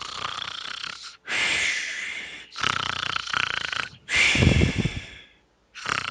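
A man imitates a snore with his voice, giving four long, loud, close rasping inhales and snorts separated by short silent gaps.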